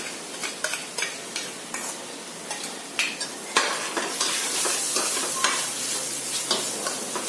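Spices and tomato puree fry in a pan with a bright, hissing sizzle that swells louder partway through, while a metal spoon stirs with quick repeated scrapes and taps, close up with no talk.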